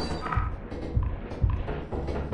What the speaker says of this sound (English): God, I hate the sound the doors make.